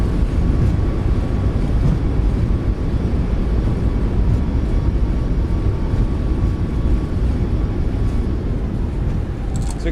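Steady, loud broadband roar of Boeing 737 MAX 8 engines with thrust reversers deployed after landing in a flight simulator, a constant rushing rumble for the whole stretch with no voices.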